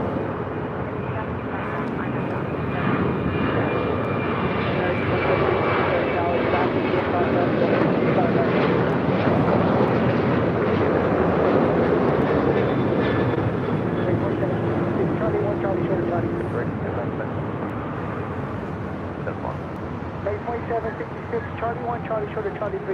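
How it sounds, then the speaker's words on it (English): An American Airlines Boeing 737-800 jet roars at LAX in a broad, sustained engine rumble lasting the whole stretch, steady and fairly loud, with radio chatter and voices mixed underneath. "That was American Airlines Flight 1598 heading to Chicago O'Hare in a 737-800"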